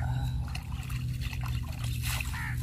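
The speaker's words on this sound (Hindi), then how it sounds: "हाथ मुंह धो लेते हैं।" Water trickles and splashes as hands and face are washed outdoors in a village, a steady dribble with small sloshes throughout.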